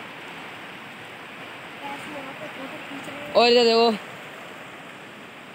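A river flows in a steady, even rush that fills the background, while someone speaks briefly near the end.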